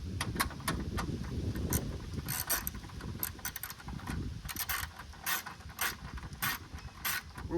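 Ratchet snugging 10mm nuts on a headlight assembly of a 1996-2002 third-generation Toyota 4Runner, giving rapid repeated clicking bursts close by with no talk.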